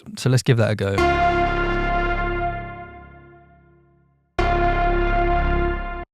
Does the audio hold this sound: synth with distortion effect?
yes